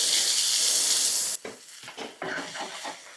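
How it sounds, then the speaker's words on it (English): Chopped onions hit a hot pan and sizzle loudly, a dense frying hiss that gives way to scraping and stirring as the moisture deglazes the browned bits, with no talking. "We're going to let the moisture from those onions deglaze this pan so we can get up those burnt bits."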